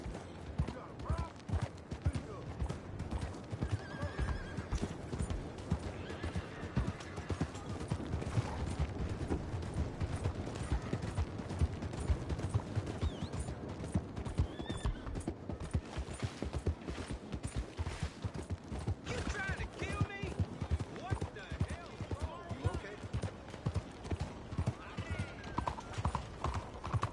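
Horse hooves clip-clopping in the Western video game Red Dead Redemption 2, a steady rhythmic trot with occasional neighs, mixed with game effects and talking voices over a quiet background.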